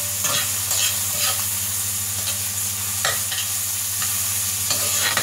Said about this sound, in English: Let's stir that some more.